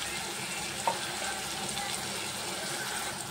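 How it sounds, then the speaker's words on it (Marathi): Masala with red chili powder and garam masala frying in a pan for egg biryani, a steady close sizzle with one brief clink near the start and no talking. "अशा प्रकारे आपण व्यवस्थित मसाला भाजून घेतला."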